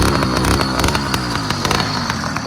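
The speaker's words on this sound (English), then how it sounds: "The engine is singing, we can go." Small motor on a bicycle, on a desert trip in Kazakhstan, runs loud and close with a rapid, buzzy, rattling two-stroke putter that stays steady and continuous, no voices heard.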